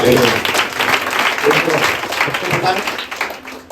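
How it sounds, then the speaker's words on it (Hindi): A church congregation breaks into dense, loud applause, a continuous wash of many hands clapping together with voices mixed in throughout. "जो समझे और जोर ताली लगाएंगे"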